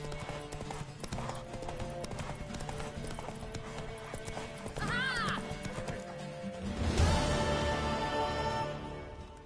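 Rhythmic hoofbeats of a galloping mare in the video game Witcher 3, over a busy background, with a whinny partway through and a louder burst of hooves near the end.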